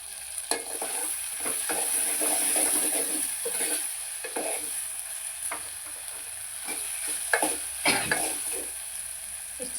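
Radish pieces frying in hot oil in a pan, stirred with a utensil, as the base for a mooli saaru; a steady sizzle runs throughout under repeated scraping strokes and light clinks, with no one talking.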